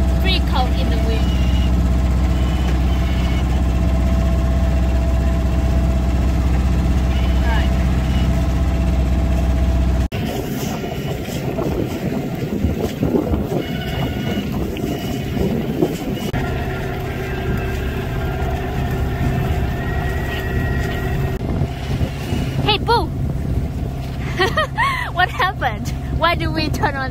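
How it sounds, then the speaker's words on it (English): A small Albin Vega sailboat motors into a cold headwind along the south coast of Sweden, its inboard engine droning steadily and loud throughout, with wind and water noise rising over the hum in the second half. "We have to motor down into the wind for about an hour."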